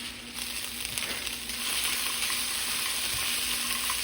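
Vegetables frying in butter with garlic pepper seasoning sizzle continuously and fairly loudly up close, with a constant crackle and faint stirring noise throughout.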